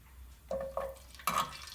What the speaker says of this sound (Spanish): vamos a poner primero a dorar los ajos